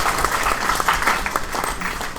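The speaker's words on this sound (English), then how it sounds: "Let's give a round of applause for Ricardo." An audience claps for Ricardo at a demo debate event, a dense, steady round of applause lasting a couple of seconds with no voices over it.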